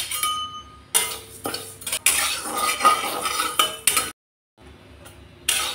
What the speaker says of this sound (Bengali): ডালটাকে ভেজে নিচ্ছি হালকা করে।